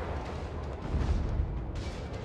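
Warship guns booming in the naval battle game World of Warships, a dull, rumbling salvo with a deep low swell rising and fading at moderate loudness, no voices over it.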